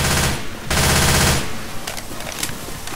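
Rapid automatic gunfire in Left 4 Dead 2 in a Silent Hill setting, dense loud bursts in the first second and a half, then scattered quieter shots and clatter.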